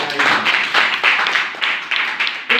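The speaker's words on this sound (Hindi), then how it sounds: "सर के लिए एक बार जोरदार ताली।" A live audience at a spoken talk bursts into loud, close clapping, with several irregular waves of applause rising and falling over a couple of seconds and no talking on top.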